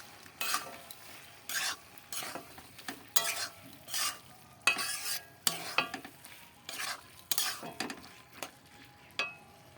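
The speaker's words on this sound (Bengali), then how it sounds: "নাড়িয়ে নেবো ভালো করে" Spoon scraping repeatedly through Malabar spinach curry with egg in a pan, a steady run of close, rhythmic stirring strokes with a light sizzle underneath and no voices.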